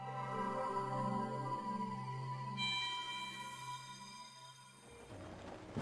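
In a modded Zelda: Breath of the Wild, a teleport effect rings out as soft layered tones and a shimmering swell that shifts midway, then fades into a brief whoosh at the end, quiet throughout.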